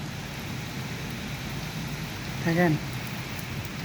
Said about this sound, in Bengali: দেখো প্রচণ্ড বৃষ্টি, ঝড় প্রচুর।